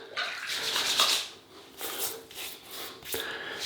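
Water splashing and rubbing against skin as a face is wetted before a double-edge razor shave, in broadband wet bursts with short pauses, close and fairly quiet, with no talk.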